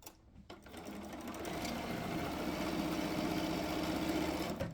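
A sewing machine stitching quilting fabric, heard as a close, steady mechanical whir that starts after a brief pause and runs continuously with a rapid rhythmic needle chatter, fairly loud with no talk over it.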